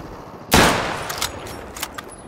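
Gunfire in the video game Rust Mobile: one sharp, loud shot with a trailing echo, followed by a few fainter, scattered pops in the distance.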